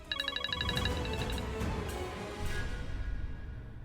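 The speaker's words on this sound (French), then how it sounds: "Le téléphone sonne." A telephone rings with a burst of rapid electronic trills that cut off after about a second and a half, followed by quiet room tone.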